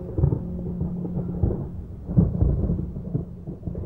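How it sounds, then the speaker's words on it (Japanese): Deep thunder rolls and rumbles nearby with heavy low booms and a rain-like wash underneath, in a Japanese radio-drama style scene. "雷だ。"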